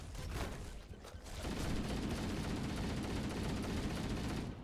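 Assault rifle from Halo 1 firing in sustained automatic bursts, a brief pause near the start then a long continuous rattle, loud and close, blending with battle noise.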